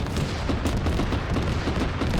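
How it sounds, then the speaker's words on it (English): Heavy gunfire and booming from an infantry fighting vehicle in the Arma military game, a dense, continuous rumble of low blasts filling the whole stretch with no clear gaps between shots. "BMP waited for him to fire"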